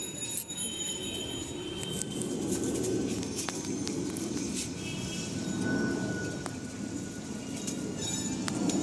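Pigeons in a loft give a low, steady murmur of cooing, with scattered clicks and small sharp sounds above it, at moderate distance and without speech.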